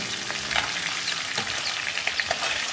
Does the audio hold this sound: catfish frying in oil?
yes